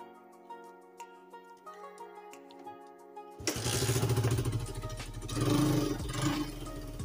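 A motorcycle engine with a killswitch fitted cranks and catches, then settles into a loud, steady running chug close by; before it starts, only quiet tonal sounds are heard, with no talking.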